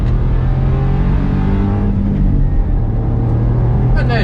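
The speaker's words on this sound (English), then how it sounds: "going to do 0 to 50 on this one because it's a 50-mile-an-hour road." A Smart ForTwo 450 accelerates from a standstill up to 50 mph, its engine droning loudly and steadily from start to finish and rising slightly in pitch.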